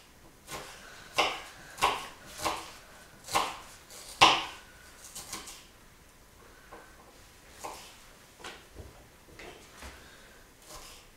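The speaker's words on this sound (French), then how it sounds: "Et on va le couper bien bien finement." A knife chops salad ingredients finely on a board for a homemade mixed salad, giving a series of crisp, close cuts in an irregular rhythm that are clear at first and then grow softer and sparser.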